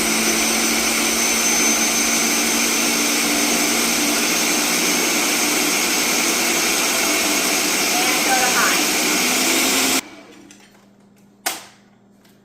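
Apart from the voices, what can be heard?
blender running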